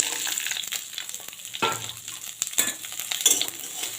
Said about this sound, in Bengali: আমি একটু লাল লাল করে ভেজে নিচ্ছি এগুলো